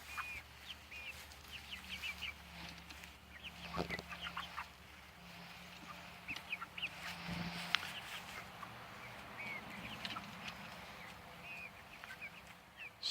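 Chickens, including a speckled Sussex, cluck and chatter softly inside a hoop house, scattered calls with a couple of sharper squawks over a quiet background hum.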